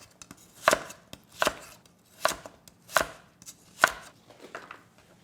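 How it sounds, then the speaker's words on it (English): A knife cuts cabbage and carrot on a cutting board for Korean spicy pork over rice: five distinct, evenly spaced crisp chops with brief crunchy tails, close and fairly loud, with quiet gaps between and no talk. "I'm going to cut all vegetables, small carrot,"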